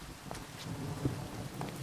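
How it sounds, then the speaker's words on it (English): Steady rain with a low rumbling storm background during a Minecraft thunderstorm, a continuous soft wash of patter with faint thunder underneath, fairly quiet and even throughout. "Oh, it's thunderstorming, actually."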